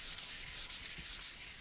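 Wet sanding of a Suzuki motorcycle gas tank by hand, close and quiet, with rhythmic back-and-forth rubbing strokes repeating roughly every quarter second.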